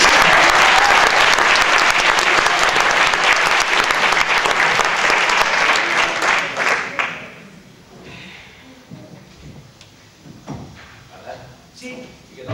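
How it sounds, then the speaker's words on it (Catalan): Loud, dense audience applause at a live Catalan casual show fills the first seven seconds, then quickly dies away to a quiet room with a few scattered knocks and small sounds. "Un aplaudiment per donar-li força a Cristian!"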